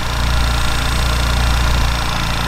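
A barn-find VW Golf Cabrio with a 1.8-litre, 75 hp naturally aspirated engine runs at a steady idle, loud and close, with a constant low rumble and no talking.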